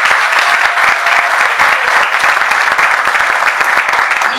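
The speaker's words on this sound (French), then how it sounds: "que l'on applaudisse à nouveau très fort." Wedding guests at a civil marriage ceremony in Gabon break into loud, sustained applause, dense rapid clapping from a sizable crowd filling the room evenly for several seconds.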